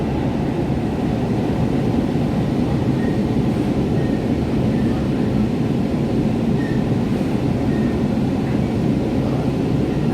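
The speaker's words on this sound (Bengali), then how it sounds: "এই মেট্রো যাচ্ছে" Kolkata metro train running between Kavi Subhash and Hemanta Kumar stations, a steady loud rumble of wheels and motors heard from inside the carriage, continuous and unbroken throughout with no voices.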